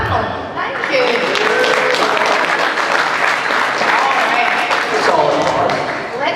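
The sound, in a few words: audience applause at a fan expo panel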